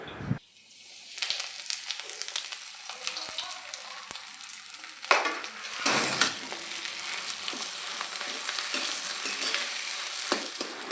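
Cumin seeds and chilies frying in hot oil give a steady, close sizzle and crackle that holds for the whole stretch, with occasional stirring scrapes.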